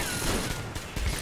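Rapid gunfire in the video game Metro Exodus, a dense burst of loud shots filling the short stretch with no voice over it.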